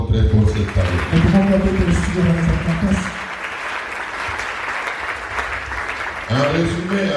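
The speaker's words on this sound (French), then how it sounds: "quelqu'un acclame encore très fort cette parole" A church congregation cheering and applauding during a sermon, dense clapping and shouts overlapping with a preacher's voice, then a sustained wash of applause before talk resumes.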